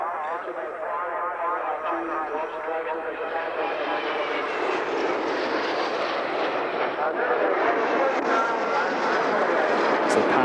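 Display jets in an opposition loop at the 1989 Ulster Airshow in Newtownards pass close to the commentary position, a loud sustained engine roar building toward the end, with talk over it.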